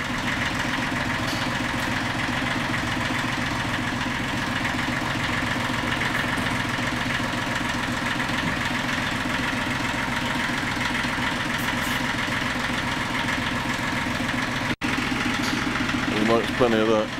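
A running engine idles steadily at the hunt cabin in Northern Michigan, a continuous mid-low hum with a faint pulsing rhythm that holds throughout, loud and close, with a brief dropout near the end.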